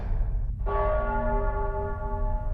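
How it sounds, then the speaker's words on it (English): A church bell tolls in the Nostradamus The Last Prophecy video game, a single loud strike ringing out clearly and then sustaining with a long, bright, humming decay over a low background rumble. "The bells."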